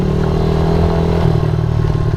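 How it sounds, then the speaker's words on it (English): A Suzuki DRZ 70 dirt bike rides along with a steady, buzzy small-engine drone close by, mixed with some rattling and clatter, with no talking. "It's super fun to be out here riding this Suzuki."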